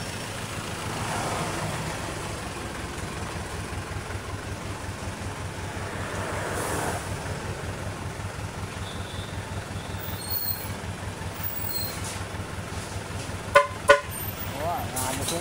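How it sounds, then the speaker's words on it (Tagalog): Heavy traffic on the Maharlika Highway: a steady low rumble of passing vehicles with a couple of sharp horn toots near the end, fairly quiet and heard from the roadside. "Kaya matinding traffic."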